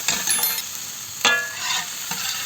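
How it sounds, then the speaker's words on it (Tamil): Ginger garlic paste frying in hot oil, a loud close crackling sizzle with a few sharper pops and the scrape of stirring, no voices. "இஞ்சி பூண்டு பேஸ்ட் போடுறாரு நம்ம தாத்தா."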